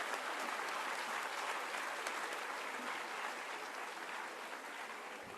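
Sustained clapping from a large audience at a quiz competition trophy unveiling, dense and even throughout, with a faint murmur of voices underneath.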